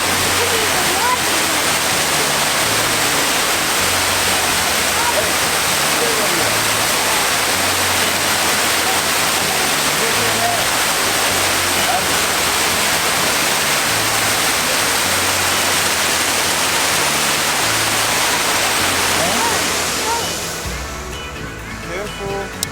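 Loud, continuous rushing water roars close by in Boston, a dense steady wash that fades slightly near the end, with voices talking over it.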